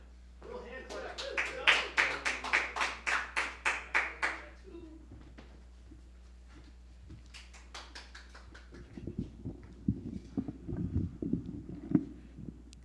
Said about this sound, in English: Little hand clap.